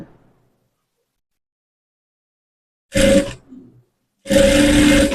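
A motorized sewing machine stitches blouse piping in two short bursts after a long silence: a brief humming run, then a slightly longer one, both close and loud.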